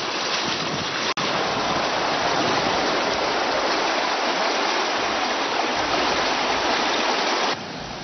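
Floodwater of the Doni river rushing over a submerged bridge near Satihal village, Basavana Bagewadi, spreading across farmland: a steady, loud broadband roar of flowing water that continues without a break, with one sharp click early on.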